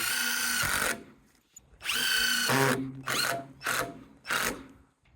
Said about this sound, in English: we're just going to drill a hole right here in the center